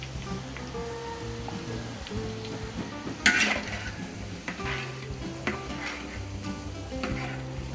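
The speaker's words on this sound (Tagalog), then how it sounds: "Nagisa uli po tayo dito na sibuyas bawang. Tapos may kaunting margarine." Onion and garlic sautéing in margarine during a Filipino fiesta cooking session, a steady soft sizzle with occasional stirring and utensil clatter.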